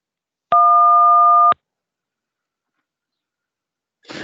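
Synthesized telephone DTMF keypress tone, a single clean steady dual-pitch beep lasting about one second, followed by silence and a brief burst of speech at the end.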